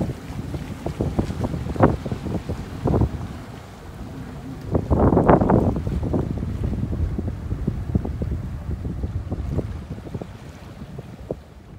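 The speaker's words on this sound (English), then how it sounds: "Yeah, we're sailing along effortless." A Rival 41 sailboat on sea trials sails through the wind, with gusty buffeting on the microphone and irregular splashes and slaps of water against the hull, all steady and close with no talk.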